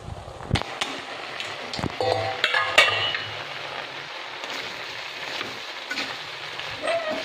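Foxtail millet biryani is stirred in a cooking pot. Faint metallic scrapes and clinks of a utensil against the pot are scattered over quiet background noise, with no voices.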